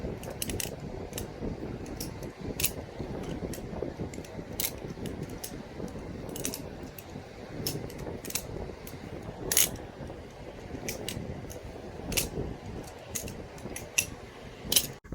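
A Svix Co Zephyr balisong butterfly knife trainer being flipped, giving repeated sharp metallic clicks and clacks at an uneven rhythm over faint background noise.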